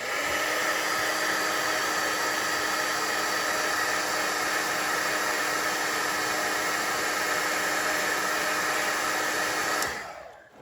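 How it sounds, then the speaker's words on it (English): Heat gun melting silver embossing powder on a snowflake card, a loud, steady blowing roar that holds for about ten seconds before cutting off abruptly. "coming back in with the heat gun"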